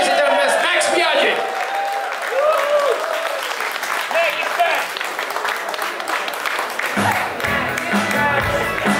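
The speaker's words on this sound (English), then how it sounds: "Big applause for the internet, Max Biaggi!" A crowd in Kuala Lumpur applauds and whoops as MotoGP rider Max Biaggi is welcomed, sustained clapping with cheers and voices mixed in, while an announcer talks over it.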